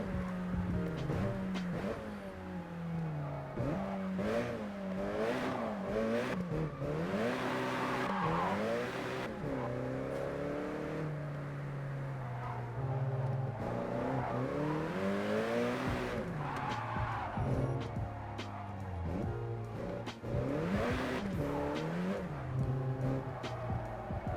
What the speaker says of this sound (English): It's so hard not to drift in this game.